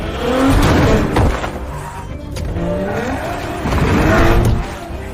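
A car speeds away from zombies in a Korean zombie action film, its engine roaring and tires squealing in loud, sweeping surges that swell, dip and swell again, close and dense with action-scene noise.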